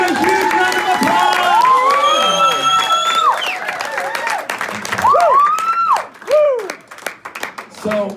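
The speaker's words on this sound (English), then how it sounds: "Give these folks a huge round of applause." An audience at a hypnosis show claps and cheers loudly, with whoops and high shouted voices rising over the continuous applause.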